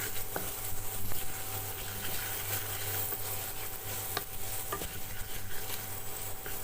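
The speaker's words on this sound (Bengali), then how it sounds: "লঙ্কার গুঁড়ো দিলাম অল্প একটুখানি হলুদ এবার এটা ভালো করে কষিয়ে নেব" Chilli powder and turmeric fry and get stirred in a pan for chana dal, a soft steady sizzle with scraping stir strokes and a few light clicks, fairly quiet and close.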